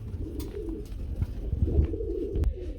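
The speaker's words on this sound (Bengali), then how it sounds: "একটা সিঙ্গেল কবুতর আছে বন্ধুরা" Pigeons cooing at a farm where running pigeons are sold, including red Danish birds: soft, low, repeated coos with a few brief rustles and flutters, fairly close, no talk.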